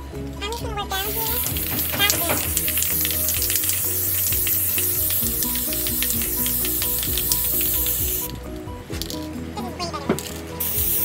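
A spray paint can hisses in long, close, continuous bursts that drop off briefly and resume, with small clattering handling noises around the spraying.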